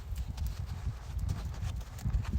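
Hooves of a ridden horse being schooled for working cows clip-clop in a steady, soft rhythm on the ground, fairly close and continuous.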